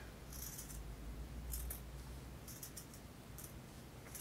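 Faint, quiet snips of scissors cutting out fleece fabric for a dog coat, a few short crisp cuts spaced irregularly over a soft background hush.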